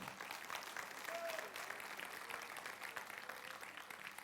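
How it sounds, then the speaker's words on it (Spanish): A church congregation claps for the Lord during a Spanish-language sermon, a steady, fairly distant patter of applause with murmured voices and a brief call mixed in. "le brindamos un aplauso al Señor"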